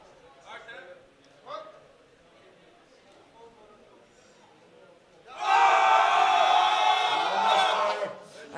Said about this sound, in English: Netherlands also some vocal supporters in the crowd.